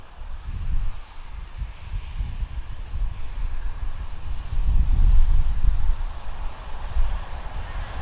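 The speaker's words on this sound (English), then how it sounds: "We've got some aircraft turning on to the active in the background, 2 Q400s, I believe." Distant turboprop drone of Q400 aircraft turning onto the active runway at Vancouver airport in early morning, a low steady rumble with wind noise swelling and fading.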